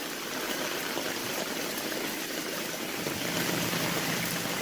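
Rainstorm water pours from a French drain pipe into double barrel tanks outdoors, a constant rushing, splashing flow at moderate loudness with no pauses or voices.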